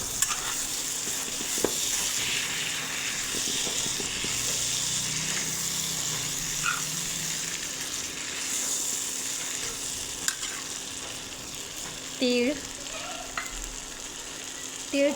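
Washed mixed vegetables for Bhogi bhaji fry in hot oil, giving a steady close sizzle with occasional stirring scrapes and a few sharper clinks of the utensil toward the end.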